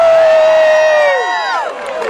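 A crowd at a town hall meeting cheers and whoops loudly, with a long sustained whistle-like shout that slides down in pitch, then more overlapping voices.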